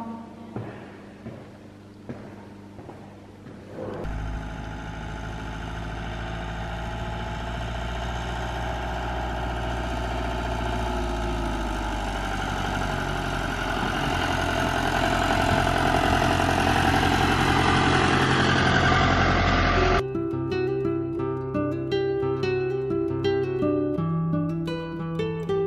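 Car engine droning while driving on roads in Spain, a steady loud hum that swells gradually, then shifts abruptly near the end as music-like tones take over, with no talk.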